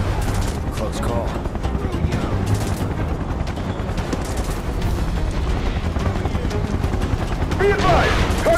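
Sustained gunfire in the Final Fantasy VII Remake video game, dense and continuous bursts mixed with game sound effects and shouted voices throughout.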